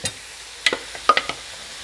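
Vegetarian hot pocket filling being stirred in a frying pan: a soft background sizzle broken by a few quick scraping clinks of the utensil against the pan, close and brief.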